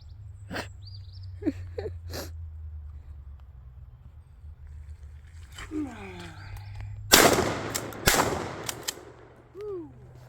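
Two shotgun-like blasts from a gun fired outdoors near power lines, a loud sharp report around the middle followed by a second shot about a second later, with someone talking before and after.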